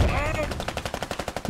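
Automatic gunfire in the video game Squad sounds as a rapid burst of repeated sharp shots, fairly close, with a voice briefly present at the edges.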